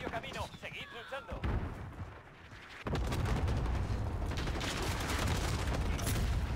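Steady booming gunfire and artillery-like blasts from the video game Modern Warfare roll continuously in a dense, loud wash, with an earlier stretch of clattering mechanical noise before it.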